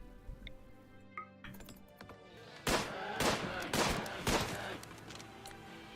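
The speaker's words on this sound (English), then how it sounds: "let's shoot the bear." Gunfire rings out as colonists shoot a bear in the video game Rimworld, a quick run of sharp shots after a quiet start, with no voices during the shooting.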